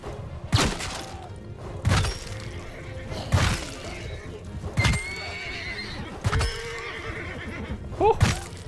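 Horses whinny again and again amid hoof clatter and heavy thuds in a medieval battle in the video game Mount & Blade II: Bannerlord, with about six loud, sharp neighs spaced over the chaotic fighting.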